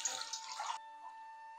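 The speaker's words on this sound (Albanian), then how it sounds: "Dhe shtojmë dikon rreth 2 litra me ujë" About two litres of water poured into a cooking pot for soup, a soft splashing gush that stops abruptly partway through, leaving a quiet hum.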